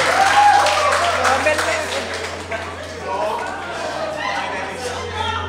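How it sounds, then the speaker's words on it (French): A crowd at a talk applauds in a dense wash of clapping that gradually thins, mixed with chatter and a speaking voice over a low steady hum. "On applaudit, s'il vous plaît."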